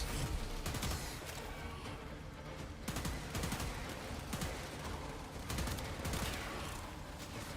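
Weapon fire in the shooter game Warframe, an Archon Hunt mission with Styanax: dense, rapid bursts of gunshots and impacts in repeated volleys, loud and continuous throughout with no speech.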